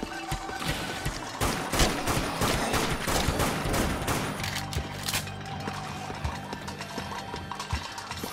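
Rapid submachine gun fire in the zombie shooter game Dead Nation, loud, dense bursts of gunshots continuing steadily with crashing impacts mixed in.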